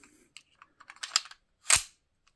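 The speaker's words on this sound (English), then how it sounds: "when you put the magazine in, it goes well with the pistol" A spare Remington magazine sliding into a KWC 1911 air pistol, a series of small metallic clicks and scrapes, then one sharp, solid snap as it seats, close and clear.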